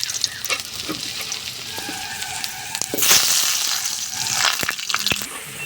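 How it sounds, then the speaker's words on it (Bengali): Pre-cut potato pieces fry in hot oil in a kadai, giving a dense close sizzle with crackling spatters that swell loudest in the middle and later, plus a few sharp clicks and knocks. "এবার এই তেলেতেই আমি আলুগুলো ভেজে নেব"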